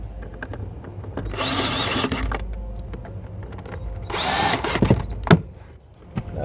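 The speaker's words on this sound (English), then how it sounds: "Grab the drill, makes it a lot quicker." Cordless power drill driving screws while a car head unit and dash trim are refitted in a Ford Territory SUV, with two loud whirring bursts about two seconds apart amid close clicks and handling noises.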